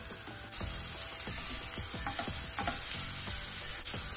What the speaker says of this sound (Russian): Сначала начинаем обжаривать лук и морковку. К обжаренному луку и морковке добавляю кабачок.